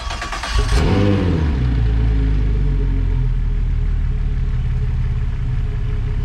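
Suzuki outboard motor on ear muffs, running without its hood, cranks briefly and then catches into a loud, steady rumbling idle that holds close and unbroken to the end.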